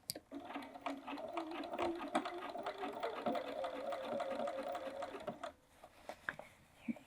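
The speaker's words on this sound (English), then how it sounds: "I'm just going to sew 1/8 of an inch in" A sewing machine runs in a fast, steady mechanical whir with rapid needle ticking as it stitches a bag's side seam close to the edge, stopping after about five seconds and followed by a few faint clicks.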